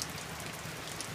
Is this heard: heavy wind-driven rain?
yes